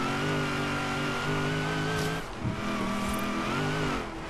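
Car engine in Forza Horizon 3 on a rainforest sprint revs hard through gear changes, pitch climbing and dropping with a brief lift around the middle before pulling again, loud and close.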